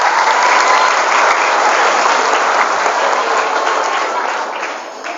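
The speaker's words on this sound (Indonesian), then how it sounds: "berikan tepuk tangan antum untuk Nusantara" A large crowd of students applauds at a pesantren motivational gathering, a dense sustained roar of clapping that fades slightly toward the end.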